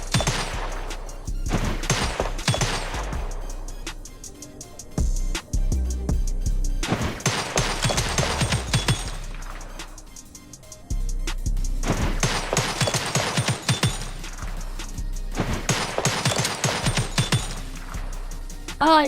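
A game character firing as her dodge attack, heard as repeated bursts of sharp rapid gunshots over several seconds, broken by short pauses and layered over game music and effects.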